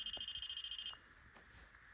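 A motion-triggered ghost hunting device gives a fast, even train of high beeps for about a second and then stops, leaving a quiet indoor room with faint noise.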